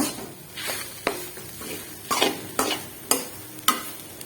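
Coconut fries in ghee for coconut modak, a light sizzle punctuated by repeated sharp scrapes and taps of a spoon stirring the pan at an uneven pace.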